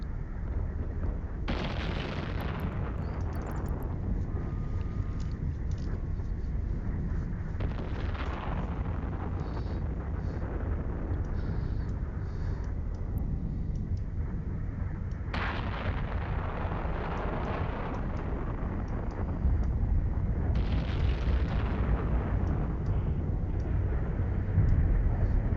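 Ship weapons fire in space combat in Eve Online, a Loki cruiser working a Winter Nexus high-security combat site, with dense, sustained booming and crackling salvos that swell in heavy bursts and then settle, continuous and loud throughout.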